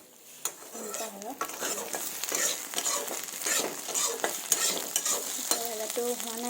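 Vegetables frying in a pan in a home kitchen, a continuous sizzle broken by repeated scraping and clinking of a spatula stirring, close and fairly quiet, with faint brief voice sounds in places.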